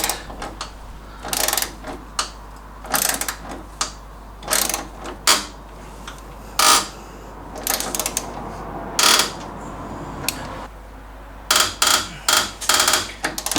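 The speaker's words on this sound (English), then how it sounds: "spring washer making a horrible clicking noise" Sharp metallic clicks from a spring washer on an MGB suspension bolt being torqued to 80 foot-pounds, arriving in irregular bursts of ratcheting clatter about every second, close and loud with no talk.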